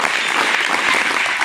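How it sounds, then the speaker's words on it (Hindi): Brief burst of steady, close clapping from a group at a scout and guide closing ceremony, loud and even throughout. "ताली बजा।"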